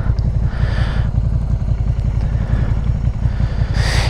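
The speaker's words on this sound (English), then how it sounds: "today I'm going to be riding my brother's brand new 2019 Sv650x Suzuki" A 2019 Suzuki SV650X motorcycle being ridden, its engine giving a steady, loud low rumble throughout with a dense pulsing tone and wind-like hiss rising and falling over it.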